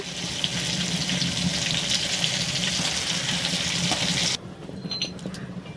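Chicken pieces deep-frying in hot oil, KFC style, give a steady dense sizzling hiss that runs loud and close, then drops abruptly to a quieter bubbling crackle for the final second.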